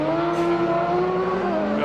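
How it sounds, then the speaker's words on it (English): Rallycross race cars on track with a sustained high, steady turbo whine over a loud engine drone, close and continuous. "Hear that turbo whine in these cars."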